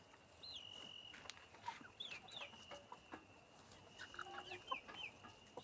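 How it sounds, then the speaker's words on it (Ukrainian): About 32 hens cluck and murmur at a distance, with several of some 15 young roosters giving short calls and squawks scattered through a quiet farmyard background. "В мене 15 півників і 32 курочки тут"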